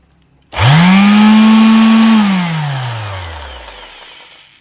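An NRT 921 electric sander with a dust-extraction fan starts abruptly, spins up to a steady loud whine, then winds down gradually after switch-off, heard close and alone.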